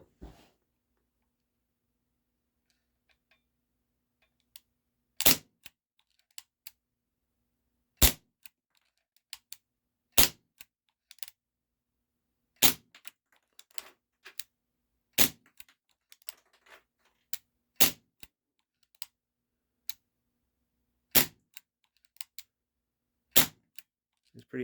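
A Ruger P345 CO2 airsoft pistol firing .20 gram BBs, about ten sharp, loud cracks spaced a few seconds apart, each trailed by faint ticks of the pellets striking a target.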